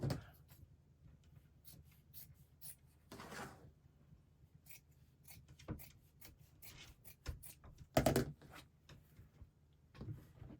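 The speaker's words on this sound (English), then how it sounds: "Fold it over again, and I cut." Scissors snip through folded felt to make a flower centre, a scattering of short, quiet cuts and rustles at close range with pauses between them and no talk.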